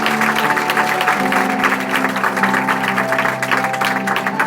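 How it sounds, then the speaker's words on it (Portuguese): Church congregation applauding, a steady dense clapping that fills the whole stretch, with sustained tones from music or voices running underneath. "Aplauda mais forte."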